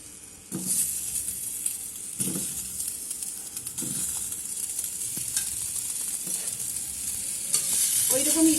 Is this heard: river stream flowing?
no